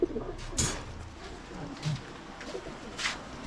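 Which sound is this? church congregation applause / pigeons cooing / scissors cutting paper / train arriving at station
pigeons cooing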